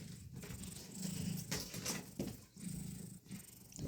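A cat purrs close up in a steady, rumbling rhythm of breaths, with no voices.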